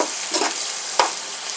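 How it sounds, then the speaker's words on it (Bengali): Beans and spring onions with turmeric and salt sizzle in a pan while a spatula stirs them, giving two quick scraping strokes over a steady close hiss. "এখন একটু ভালো করে তিনটে পাল্টে নেড়ে দেবো।"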